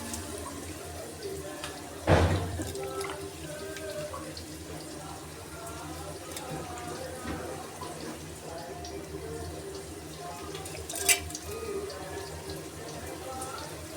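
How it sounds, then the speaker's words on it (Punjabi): Mushrooms being washed in water in a rural kitchen, running and sloshing water with a louder splash early and a brief clatter near the end, close by, with faint voices in the background. "ਖੁੰਬਾਂ ਆਪਾਂ ਧੋ ਕੇ ਦੋ ਤਿੰਨ ਪਾਣੀਆਂ ਚ ਧੋ ਕੇ"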